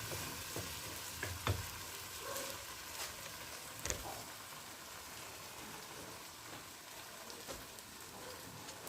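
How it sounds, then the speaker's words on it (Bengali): Lentil dal poured into a hot pan of tempering, giving a steady close sizzle and frying crackle with a few sharp pops and stirring knocks throughout. "পুরো ডালটা আমি গোটা প্যানটার মধ্যে ঢেলে দেবো"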